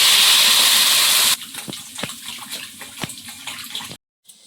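Water gushes into a cooking pot in one loud continuous pour lasting about a second, then gives way to quieter splashes and a few soft knocks before cutting off.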